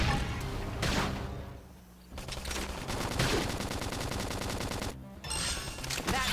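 Xenoblade Chronicles X gunfire rattles in loud, rapid bursts against the game's music and effects, dropping out briefly near the middle before returning.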